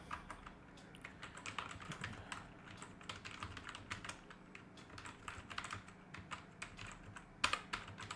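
Quick, uneven taps on a computer keyboard as a title is typed into a document, steady close clicking with a slightly louder keystroke near the end.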